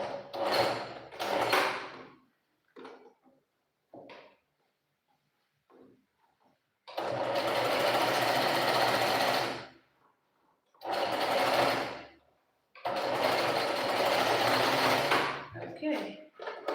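A sewing machine stitching fabric in short and long bursts, loud close-up whirring runs separated by pauses, with brief speech and handling sounds in the gaps.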